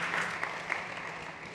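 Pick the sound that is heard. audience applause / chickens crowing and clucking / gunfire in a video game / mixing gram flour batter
audience applause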